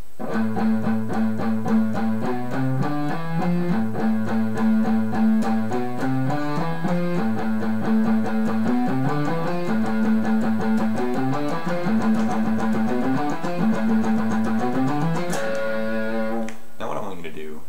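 A guitar plays a steady speed exercise of rapid notes grouped in triplets, climbing and falling in repeating patterns, with a sustained, slightly distorted tone.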